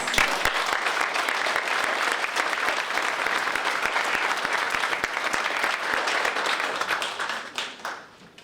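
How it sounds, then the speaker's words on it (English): An audience at a graduation ceremony applauds steadily with dense, sustained clapping that holds for several seconds, then thins out and fades near the end. "I think they're worth a round of applause."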